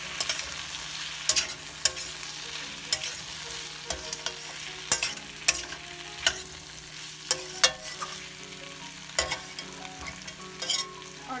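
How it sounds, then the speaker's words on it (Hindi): Capsicum and potato sabzi being stirred in a frying pan: a constant sizzle with frequent sharp clacks and scrapes of the spoon against the pan, close and busy throughout. "और अच्छे से मिक्स करेंगे"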